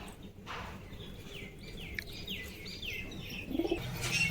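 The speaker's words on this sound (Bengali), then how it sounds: "এই যে কিছু পায়রা ছেড়েছি, এই লাল বাচ্চাটাকে ছেড়ে দিই," Domestic pigeons just released, with soft cooing and chirping calls and a brief flutter of wings, fairly faint and close against quiet background noise.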